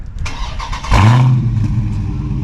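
A 2023 Dodge Challenger R/T Scat Pack 392 V8 fires up by remote start: quiet electrical whirring, then a sudden loud crank and roar about a second in that settles into a deep, rumbling idle.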